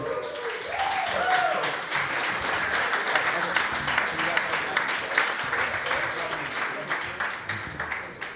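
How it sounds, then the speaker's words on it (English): Sustained audience applause fills a business event for e-commerce entrepreneurs, a dense, steady wash of many hands clapping with a few voices and cheers mixed in underneath. "Let's give them a round of applause, everybody."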